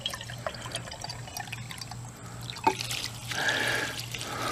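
Water draining from a pond and rainwater hydroponic filter, a soft steady trickle with scattered drips and a low hum underneath, swelling into a fuller, louder flow near the end.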